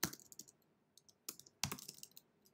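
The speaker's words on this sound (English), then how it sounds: "Then you're going to type in here what you want." Typing on a computer keyboard during an AI image prompt entry, heard as a few quick bursts of soft, close clicks separated by short pauses, with no talking.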